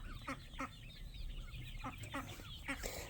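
A turkey calls outdoors on a farm, giving several short, clucking notes spaced at irregular intervals, moderately close over a rough background rumble.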